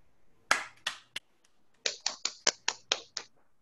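A few sharp hand claps at a Toastmasters club meeting, three spaced claps followed by a quicker run of seven, crisp and close, from only one or two people rather than a full room.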